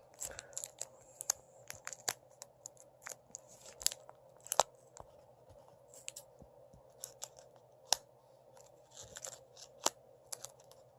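Scissors snip through plastic packaging in a quiet room, a run of sharp, irregular cuts and crinkles, close and fairly faint, with short pauses between snips.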